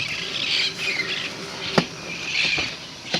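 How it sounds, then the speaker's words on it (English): Wild green Amazon parrots squawk in repeated harsh, nasal bursts, a loose flock calling close by outdoors in the Inland Empire, with a few sharper peaks standing out over the chatter. "Green parrots, alright."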